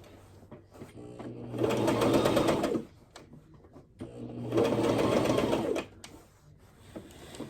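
A sewing machine stitches a skirt seam in two steady whirring bursts of about two seconds each, with quiet pauses and soft handling noises between them.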